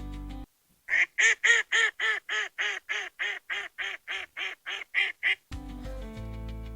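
A run of about fifteen loud, evenly spaced duck quacks in quick succession, clear and close, with no talking over them.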